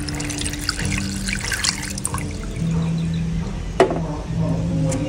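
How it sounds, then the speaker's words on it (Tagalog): Water pours steadily into a pot of mulberry leaves, a continuous trickling splash with a low hum underneath and a brief clatter partway through. "Lalagyan ko na ng tubig."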